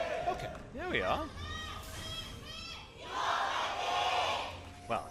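Packed esports arena crowd at a League of Legends LCK match roars with cheers and yells in loud swelling waves, with a commentator talking over the noise.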